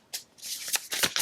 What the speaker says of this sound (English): I can barely even shuffle.